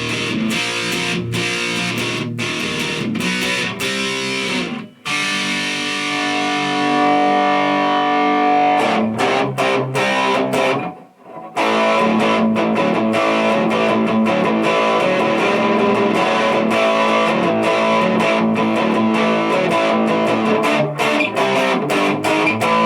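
An electric guitar plays through an Orange Crush Mini amp with heavy distortion. It gives loud, sustained chords and riffs, broken by brief choppy stops and two short silent gaps.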